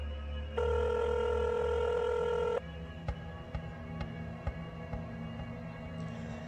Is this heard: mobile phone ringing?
yes